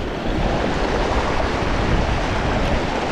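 Strong current of water rushing at high tide, a steady, dense broadband wash with a continuous roar and no pauses, close and fairly loud throughout.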